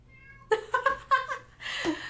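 A cat lets out a string of short, chirpy meows followed by a longer, harsher yowl, close by.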